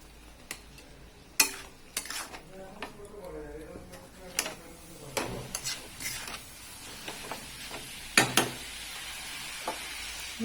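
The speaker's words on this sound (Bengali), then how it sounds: "এই যে বন্ধুরা জল ঝরানো চাউমিন দিয়ে দিচ্ছি কড়াতে।" Drained chowmein noodles hit a hot wok and are stirred, giving scattered clacks and scraping of a utensil against the pan over a soft sizzle, close up and moderately loud.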